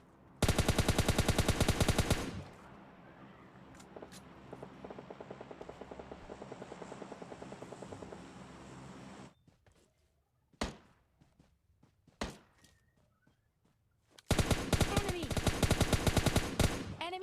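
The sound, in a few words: gunfire in a video game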